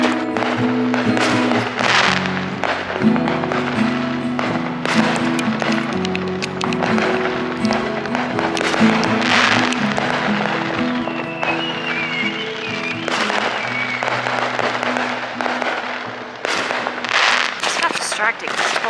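Fireworks and firecrackers go off through a summer evening in the Midwest, a long run of sharp pops and crackling bursts at irregular intervals, some loud and near, with a person talking over them throughout.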